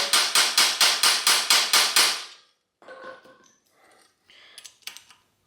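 Hammer taps a pin into the crank of a vintage Peugeot bicycle bottom bracket: nine rapid, even metallic blows close up, followed by softer clinks and small tool rattles.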